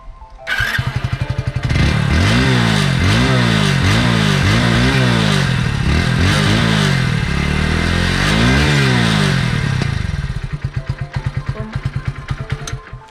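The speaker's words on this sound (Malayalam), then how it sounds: "സ്പ്ലെൻഡറിൻ്റെ സ്റ്റോക്ക് എക്സോസ്റ്റിൻ്റെ ഒച്ചയാണ് നമ്മൾ കേൾക്കാൻ പോകുന്നത്." A Hero Splendor BS6 motorcycle with its stock exhaust starts, then revs repeatedly in rising and falling bursts before settling into a steady, clean idle, close and loud without any speech.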